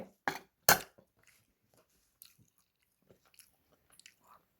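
Someone eating a spicy small-crab salad: two sharp, close crunches of shell up front, then faint, scattered chewing and sucking sounds in near silence.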